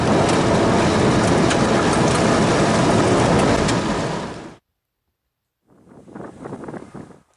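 Freight locomotive consist G817 rolling past, a loud, steady broadband roar of wheels and rail with wind buffeting the microphone, cutting off abruptly, then returning more faintly after a short silence.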